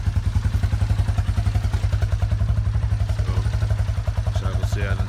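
A Coolster 125 engine that had trouble starting fires up and idles with a fast, steady putter, loud and close, with some mechanical clatter and a few brief faint chirps near the end.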